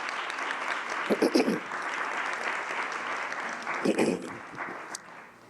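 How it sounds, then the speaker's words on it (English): Audience applause during a public talk, a sustained wash of clapping from a crowd, moderately loud and even throughout with a couple of brief louder bursts of rustle and movement. "Let's give them a warm round of applause."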